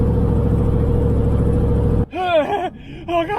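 Dodge RAM truck engine pulling up a hill at a low 1600 RPM, a steady deep rumble that cuts off abruptly partway, followed by a person speaking.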